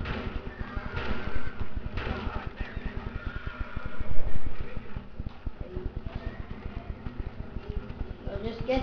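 A horse gallops in Red Dead Redemption on the ride toward Blackwater, with a fast, steady drumming of hoofbeats running throughout under a voice.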